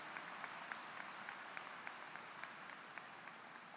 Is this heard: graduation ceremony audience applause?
yes